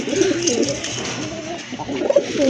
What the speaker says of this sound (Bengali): ডাকতেছে এটাই নর আর ওইটা হচ্ছে মাদি কবুতর